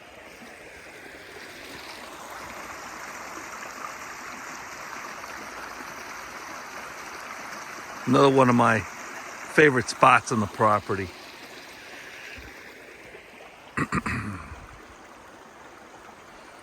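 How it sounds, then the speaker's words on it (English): A creek flows steadily down a hillside below a pond, a continuous rushing wash that fills the background throughout, with a person briefly talking over it partway through. "I just love listening to the water rushing down the side of the hill here."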